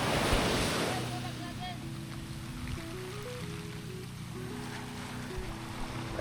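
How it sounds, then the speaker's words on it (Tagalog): Strong ocean waves surge and wash loudly at the start, then give way to steady wind and a low droning hum, with rough water noise continuing in the background. "Lakas ng alon, ha?"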